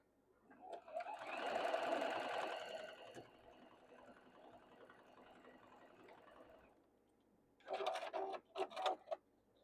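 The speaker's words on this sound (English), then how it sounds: "So now we're going to sew this on, and then we'll sew them together down the middle." A sewing machine stitches quilt blocks in a steady whirring run that fades into a softer hum, then returns with several short, quick bursts of stitching, close and without speech.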